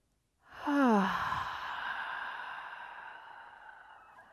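A deep breath during a guided yoga session for anxiety, a long airy exhale with a soft voiced sigh at its start, close and steady, fading gradually over several seconds with no talking.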